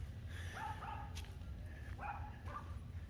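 A neighborhood dog barks a few times at a distance, short yips and bow-wows in two bursts over a low background rumble.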